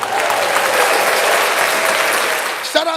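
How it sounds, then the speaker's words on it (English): An audience applauds the members on a hip-hop talk show, a loud, dense wash of clapping and crowd noise with voices mixed in, then a brief sharper sound near the end. "Let's give the members another round of applause."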